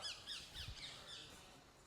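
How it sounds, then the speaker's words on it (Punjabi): Faint bird squawks and chirps repeat against a soft outdoor hiss, distant and thin. "ਪੰਛੀਆਂ ਦੀਆਂ ਆਵਾਜ਼ਾਂ ਹੀ ਸੁਣਾਈ ਦੇ ਰਹੀਆਂ"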